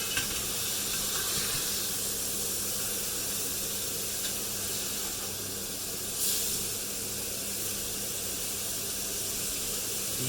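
Homemade burger patties frying in a pan, a steady, dense sizzle and hiss that carries on without a break, close up, with no talk over it.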